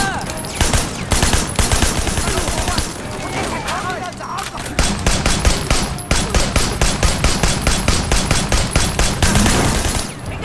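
Rapid automatic gunfire from a gun in the Sleeping Dogs video game, loud sustained bursts of close shots in fast rhythm with brief pauses, booming and dense throughout.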